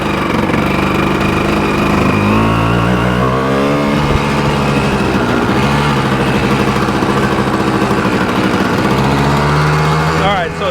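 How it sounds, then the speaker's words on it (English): A Yamaha Tri-Z 250 two-stroke engine, just warmed up and revving slightly high, holds a loud buzzing drone close by with rising and falling pitch sweeps as the throttle is worked, steady throughout. "So it's starting to rev a little high,"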